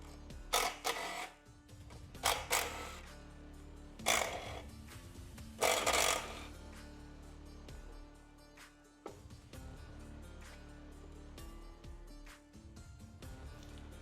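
Four 1/4-inch Allen bolts being removed from the front fender of a 2024 Harley-Davidson Road Glide, several short buzzing tool bursts early on, then quieter handling noises.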